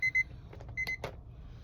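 A kitchen timer beeps in short, clear electronic tones, two quick beeps then two more, against a quiet room with faint handling noises.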